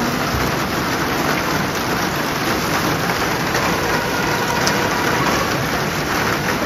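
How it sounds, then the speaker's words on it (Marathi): Steady, dense rain pours down continuously at close range as a loud, even hiss, with no pauses and no voices over it. "मस्त पाऊस चाललाय बघू शकता"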